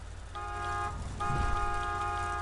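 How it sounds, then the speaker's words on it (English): A vehicle horn honks in Borderlands 2, two sustained tonal blasts separated by a short gap over low engine rumble. "Just drive up and honk your horn"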